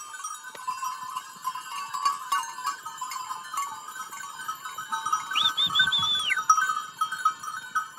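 Goats at the Londenbach goat farm in Soultzeren, bleating now and then amid a steady herd murmur, with a clearer, louder bleat rising near the middle; no speech.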